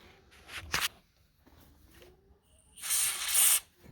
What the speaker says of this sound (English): Okay, spray it some more in there.